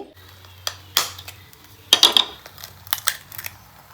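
Eggs are tapped and cracked against a bowl in a kitchen while making an egg roll, with five eggs set out beside soaked dough. Several sharp, close clicks and knocks come in small clusters over a faint low hum.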